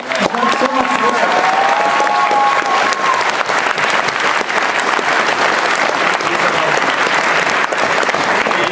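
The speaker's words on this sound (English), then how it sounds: "So I think Bob deserves an applause." Audience at a convention fan panel breaks into loud, sustained applause that fills the room for about nine seconds, dense and steady throughout, with a brief whistle or cheer near the start.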